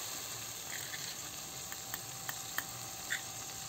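Soaked chana dal frying in a pan gives a soft, steady sizzle, punctuated by a few light clicks and scrapes of stirring, quiet and close with no voices.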